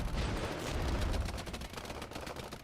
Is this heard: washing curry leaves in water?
no